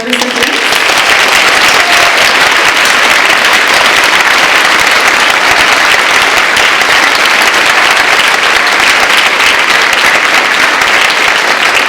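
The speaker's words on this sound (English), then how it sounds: "How about one more round of applause for all of our award recipients?" An audience at an awards ceremony gives sustained applause for award recipients, dense and loud clapping that carries on steadily without a break.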